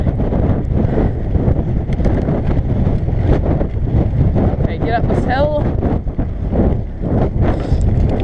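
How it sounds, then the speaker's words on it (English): Loud, constant wind buffeting the microphone with low rumbling gusts, while a person speaks briefly underneath. "sorry, a bit windy"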